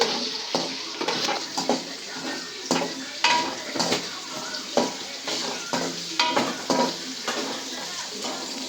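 Food roasting in a pan, with a steady sizzle broken by repeated stirring scrapes and knocks of a utensil against the pan, close and continuous.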